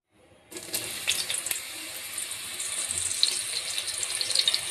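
Cut mushrooms fry in hot oil in a pan, a sudden loud hiss that settles into a steady, close, continuous sizzle.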